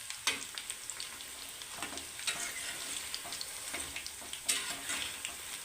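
Tea-time pakoras made with maida batter fry in hot oil, a steady crackling sizzle with scattered sharp pops at moderate volume throughout.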